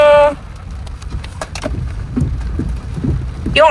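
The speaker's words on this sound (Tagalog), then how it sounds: "lakas ng ulan, no?" Heavy rain from a typhoon hisses and patters steadily on surfaces at a land development site in Santa Maria, Bulacan, Philippines, with short bursts of a voice at the start and end.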